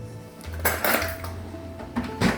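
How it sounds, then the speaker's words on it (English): Batter made with sugar and salt is mixed in a bowl using a fork, giving close clinks and scrapes of metal against the dish in quick irregular bursts. "Unfortunately, today we have to use a fork to mix."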